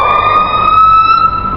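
A piha bird's call, slowed down, gives a sustained, loud wailing tone with layered overtones, much like an ambulance or police siren, heard alone.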